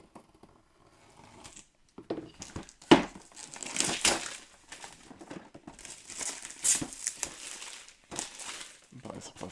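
Packaging of a Marvel United Multiverse board game box being opened, with bursts of crinkling plastic and tearing wrap, close and irregular, separated by brief pauses.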